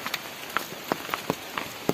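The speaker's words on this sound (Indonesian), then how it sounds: "Posisinya hujan-hujan nih gini." Rain falling in a village in the afternoon: scattered individual drops ticking and splashing on a surface over a steady soft hiss, close and fairly quiet, with no voices.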